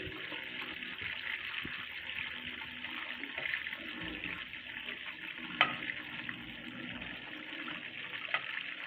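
Chicken fries in hot oil over a medium-low flame, producing a steady, dense sizzling hiss that continues evenly throughout with a few small pops.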